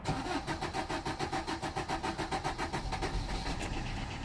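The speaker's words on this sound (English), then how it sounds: "let's gonna try to crank, see if it cranks okay" A Vauxhall Corsa D with a 1.3 CDTi diesel engine, fresh from an injector seal replacement, turning over with a steady rhythmic cranking pulse before catching and running, loud and close with no talk.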